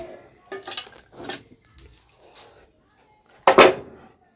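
Dishes, pots and pans clink and clatter in a home kitchen during washing up, in several short bursts, with one louder clash near the end and quieter gaps between.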